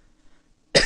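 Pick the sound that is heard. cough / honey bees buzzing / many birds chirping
cough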